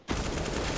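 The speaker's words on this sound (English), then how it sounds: "Naf, now with an AK-47, can do damage" Automatic AK-47 fire in Counter-Strike: Global Offensive on the Dust 2 map during a pro match, a short, dense burst starting abruptly and sustained, with no talk.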